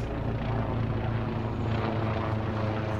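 Helicopter flying over flooded land on an inspection, a loud steady engine and rotor drone that holds constant throughout.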